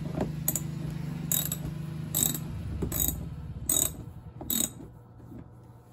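Ratchet backing out an 8 mm screw on a BMW i3 behind the wheel well: a fast ticking ratchet runs steadily under a low hum, broken by a few louder clicky bursts.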